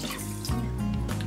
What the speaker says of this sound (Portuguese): Num tacho vou colocar então a água